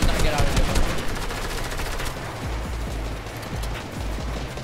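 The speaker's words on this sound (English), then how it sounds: "Oh, they're NPCs, bro. Are you kidding me? NPCs shooting at them. Rockets, RPGs" NPCs in the video game Fortnite fire guns, rockets and RPGs: a dense, continuous crackle of rapid automatic gunfire with scattered thumping shots, mid-distance and moderately loud, with game ambience and no talk.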